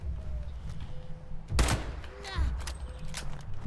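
Gunfire in the video game Fallout: a few sharp, loud shots burst out in quick succession over a low background rumble, with faint voices in between.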